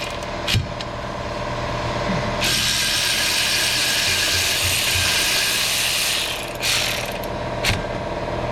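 A hand ratchet with a socket loosens the 15mm caliper mounting bracket bolts on a Ford Fiesta during a front brake job, giving a loud, close, steady rapid clicking run that ends in a few short bursts.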